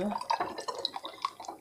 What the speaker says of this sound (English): just pour it right out of the pan